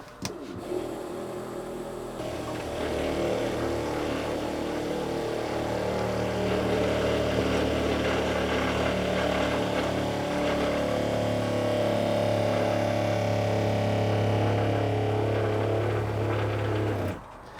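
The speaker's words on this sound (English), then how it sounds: "let's go turn on the pump" An onboard boat water pump runs steadily for a long stretch after dewinterizing, a close mechanical drone with harmonic whine that rises slightly in pitch midway and stops at the end, no talking.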